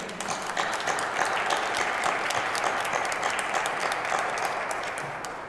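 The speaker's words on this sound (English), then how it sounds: "I want to just give Huntington a round of applause for their commitment to that issue." Sustained applause from a crowd, dense steady clapping filling the whole stretch before tapering slightly at the end.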